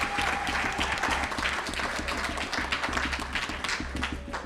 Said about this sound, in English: So how about a nice round of applause for Cheryl Wolk and the kitchen staff.